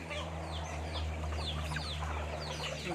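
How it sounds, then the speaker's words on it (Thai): Farmyard chickens kept for meat, young and grown birds in a pen at a Thai village home, cluck steadily in overlapping calls against a constant low background hum, with no talk. "ไก่เลี้ยงไว้กิน"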